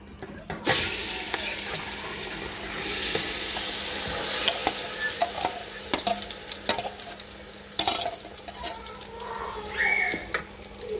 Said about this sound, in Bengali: ভালো করে মিক্স করব তেলের সাথে।